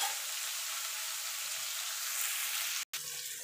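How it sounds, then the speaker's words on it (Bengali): Bitter gourd fries in hot oil with a steady, close sizzling hiss that holds evenly and cuts out briefly near the end. "এবার উচ্ছেটাকে একটুখানি ভাজা ভাজা করে নেব"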